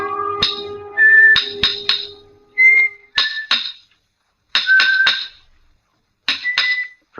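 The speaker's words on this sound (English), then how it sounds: "From the yard itself came a cheery whistle, the noise of hammer blows and the cold sound of steel meeting stone." In a monumental mason's yard, a cheery whistled tune mixes with sharp, ringing hammer blows of steel on stone, coming in short irregular clusters with quiet gaps between.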